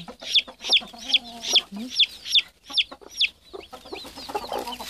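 Newly hatched chicks peep in a quick, regular series of sharp, high calls, about eight in a row, close and clear, followed by softer clucking.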